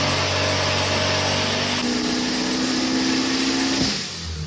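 A turbocharged nitrous 3RZ engine runs on a dyno, holding a loud, steady high-rev roar with a buzzing drone that shifts pitch partway through before easing off at the end.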